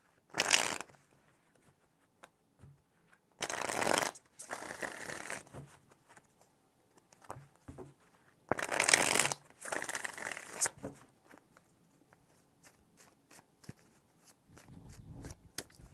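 Tarot cards being shuffled in three bursts of riffling and sliding, fairly close and quiet, with short pauses and soft handling noises between them.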